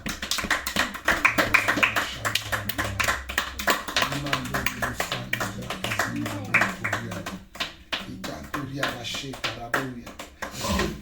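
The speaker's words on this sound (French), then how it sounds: "Applaudissons le Seigneur." Church congregation clapping along in rhythm during Christmas family worship, sharp steady hand claps over singing and music throughout.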